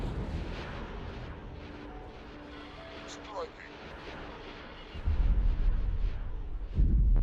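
Weapons firing in the Star Wars Interworlds game, heard as a rumbling low background that gives way to two heavy, booming blasts, the second louder, with a brief whistling streak between.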